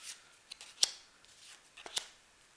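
A deck of playing cards turned over and cards laid down during a close-up magic trick, heard as a few sharp, crisp flicks and snaps with light rustling between them, close and quiet.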